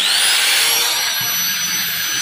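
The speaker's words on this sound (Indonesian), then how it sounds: "gerinda dulu" An angle grinder runs on household power during a test of an induction stove setup, giving a loud, steady high-pitched motor whine that holds constant and close with no talk.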